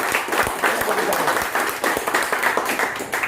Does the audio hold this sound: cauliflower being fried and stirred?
no